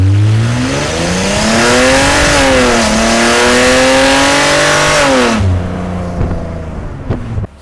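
A Mercedes SLK320 pulling hard in first gear, the engine revving loud and close as its pitch climbs, dips briefly and climbs again before the throttle lifts and it settles into a lower drone.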